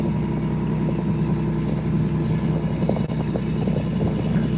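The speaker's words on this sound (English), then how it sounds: "It's got a John Deere diesel in it." A boat's John Deere diesel engine drones steadily and loudly at close range, a continuous low rumble with no talk over it.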